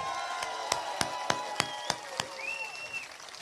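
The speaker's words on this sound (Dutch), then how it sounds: "Applaus voor onze veteranen." Outdoor rally crowd of Forum voor Democratie supporters on the Malieveld applauding veterans, with sharp rhythmic claps over a broad wash of clapping and a few whistles near the end.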